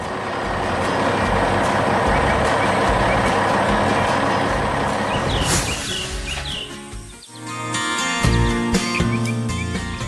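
A heavy truck in a cartoon farm setting with green tractor and yellow excavator pulls away with its load, loud engine rumble for several seconds, then reversing-style beeps and birdsong chirps once the engine fades.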